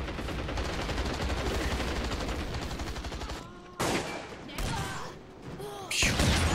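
Rapid automatic gunfire in the video game Hazard Ops, a dense continuous burst for several seconds, then separate shorter volleys after a brief pause.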